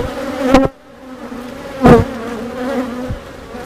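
Honey bees hum around an open beehive during a honey super inspection, their buzzing close and loud, swelling in two sharp passes near the listener before settling into a steady drone.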